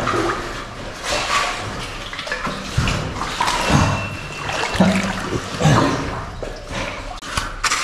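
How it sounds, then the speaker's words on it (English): Someone wading through deep, very cold water, a continuous loud sloshing and churning with repeated splashing surges from each step, close by. "I'm just going through the water at this point, and it's ridiculously cold."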